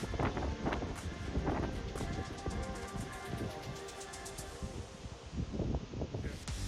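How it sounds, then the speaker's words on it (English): Steady wind buffets the microphone outdoors at a crater above the clouds on Maui, Hawaii, a continuous rushing roar with gusty swells and no voices. "It's quite windy out here"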